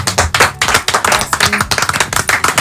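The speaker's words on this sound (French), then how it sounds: "Applaudissements pour ici." Audience applause at a live French stand-up comedy show, dense rapid clapping from a crowd with rhythmic surges, loud and close, with no speech over it.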